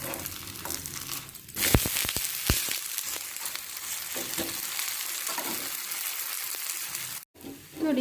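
A wheat carrot dosa sizzles loudly on a hot pan right after being flipped, with sharp scraping and crackling clicks from the turn, then a steady close sizzle with a short silent gap near the end.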